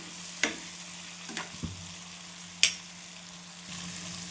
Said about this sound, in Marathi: तेलामध्ये छान परतून घेऊया